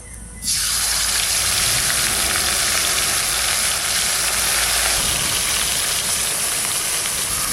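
Whole small Lote fish hit a hot kadai and set off a loud, steady frying sizzle with a hissing, watery rush that holds level for several seconds after a quiet start.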